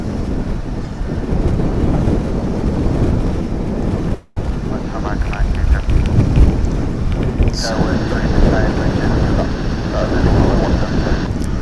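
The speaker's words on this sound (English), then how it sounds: "And here comes that Japan Airlines Dreamliner." A Japan Airlines Boeing 787 Dreamliner arrives at DFW Airport, its broad engine roar steady and loud throughout with wind buffeting the microphone, a rising whine joining partway through.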